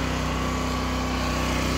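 A new portable generator engine idles steadily after its first start, a constant close-up droning hum that stays level and unbroken throughout, with no voices.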